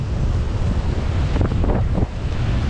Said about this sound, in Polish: na brzegu strasznie wieje